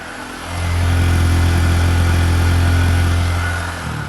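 A 2022 Honda Grom motorcycle fitted with a new exhaust idles, then rises into a loud, steady, deep thumping drone that holds for about three seconds before dropping back, close by with no talk.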